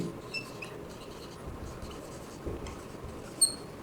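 Pen or marker writing account entries on paper or a board, a soft steady scratching that runs throughout at low level with a few faint squeaks, alone.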